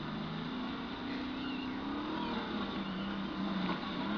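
A hijacked car in Far Cry 3 drives along with a steady, faint engine drone that holds at an even pitch for the whole stretch.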